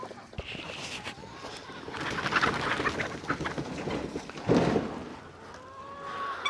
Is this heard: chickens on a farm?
yes